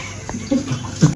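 Water runs briefly from a tap to soak an idli plate for cleaning, a short gurgling splash with a couple of louder spurts before cutting off abruptly.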